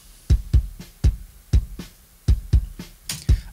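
Uncompressed kick drum thumps about eight times in an uneven pattern, each deep hit close and punchy with quick decay, alone with no voices.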